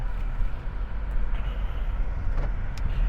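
A 2018 Honda Civic 1.5 Turbo hatchback on a test drive, with a steady low road and engine rumble heard from inside the cabin throughout and no clear revving.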